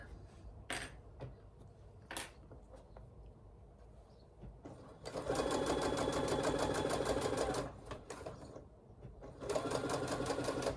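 A sewing machine stitching across a fabric seam while making a project bag, whirring steadily in two sustained runs after a few light clicks and handling taps, close and clear.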